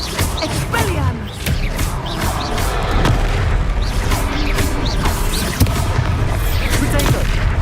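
Expelliarmus spell cast in the Hogwarts Legacy video game, loud crackling magic bursts and booms over a dense layer of game effects with short whooshing sweeps throughout.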